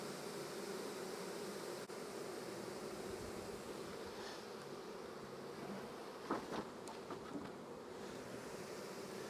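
Honey bees buzz steadily in an open hive during a heavy nectar flow, a dense, continuous hum close by with a few brief clicks and knocks, no voices.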